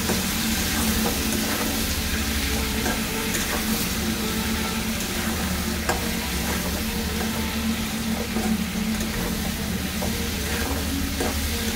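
Spices with Kashmiri chilli powder sauté in a hot pan, a dense, steady close sizzle with faint stirring scrapes running unbroken throughout.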